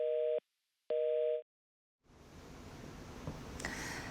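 Two loud beeps of a telephone busy signal after a dropped call during a Korean broadcast, then silence followed by a faint rustling hiss.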